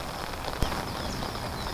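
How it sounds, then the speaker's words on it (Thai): Steady rain patters on a surface in a constant hiss, with one brief louder tap partway through. "ฝนตกนะทุกคน"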